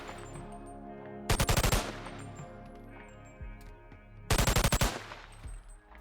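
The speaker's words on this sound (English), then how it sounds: "The firing sound is so much sharper and powerful than you would expect." M4 rifle firing in a Boneworks VR game mod, two sharp rapid bursts of automatic fire a few seconds apart, loud and close over a background music bed, with metallic clinks between bursts.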